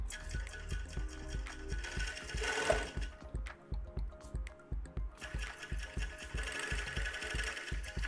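A sewing machine with a binding attachment stitches knit binding onto a knit shortdoll, running in quick rhythmic bursts with brief pauses between them, fairly quiet and close.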